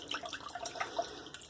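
Tap water runs and drips onto a synthetic shaving brush, a soft splashing and trickling close by, with no talking.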